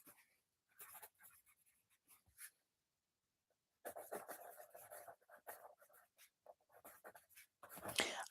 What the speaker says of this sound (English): I need to write that down.